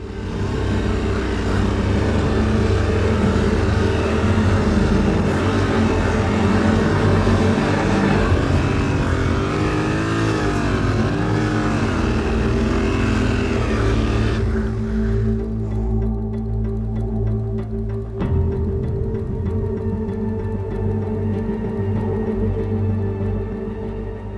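A motorcycle engine strains and whines loudly, stuck in deep Sahara desert sand during a solo off-road crossing, a sustained high-revving drone that drops to a lower, rougher idle partway through.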